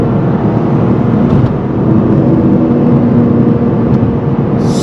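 A 300 hp Toyota GR Corolla's engine pulls steadily after a downshift, a loud, continuous near drone that holds at even intensity from start to finish with no talking.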